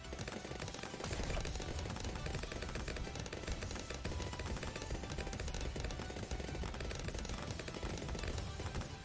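Dense, continuous rapid-fire blasts of cannon fire in Bloons TD 6, loud and sustained with no pauses throughout.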